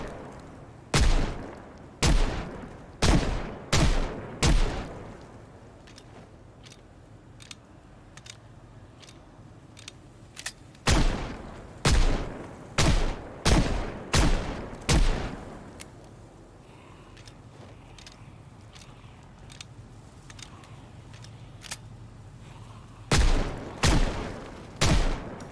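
Video game gunfire while shooting zombies: bursts of several sharp, loud shots in quick succession, separated by quieter stretches with faint clicks and low background rumble, then a final cluster of shots near the end.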